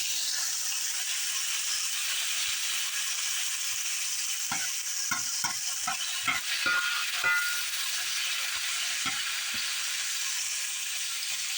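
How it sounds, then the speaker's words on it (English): Shrimp and onion sizzle steadily in an iron skillet, a constant loud frying hiss broken by scraping stirs and clinks near the middle. "let's just dump our shrimp and onion right in there"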